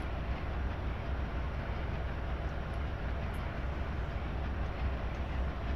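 A long, heavy freight train in a train simulator game rolls steadily in a continuous low rumble with no distinct clicks or horn, holding an even level throughout.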